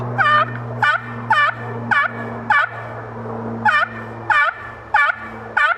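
Slower, evenly spaced raspy yelps from a slate turkey call imitate a gobbler, played close in two short runs with a steady low hum beneath.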